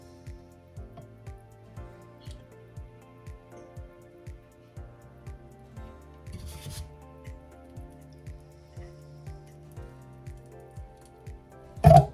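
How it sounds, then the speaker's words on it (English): A wire soap cutter slices through a loaf of egg soap to make one-inch bars, giving a quiet, regular series of soft clicks and thuds about every half second, with a louder knock at the end. "So I've got my cutter, and this will make 1-inch bars for me. And I will just let those wires slide through."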